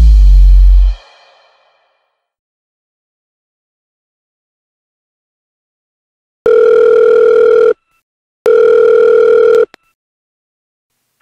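A telephone rings twice in long, loud bursts separated by a short pause, after a brief sound at the start fades into silence. No one speaks.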